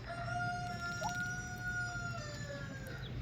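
A backyard rooster crows one long drawn-out call, clear and moderately close, over faint ambient hum.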